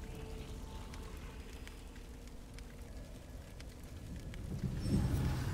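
A low rumble of thunder rolls through a lightning storm in The Evil Within, a steady, distant growl under rain-like hiss that swells louder near the end.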